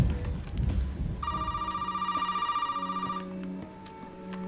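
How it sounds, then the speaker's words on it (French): An old-style telephone bell rings in the video game Resident Evil 7, about three seconds of rapid, steady trilling that cuts off, set over a low droning ambience. "le téléphone y sonne"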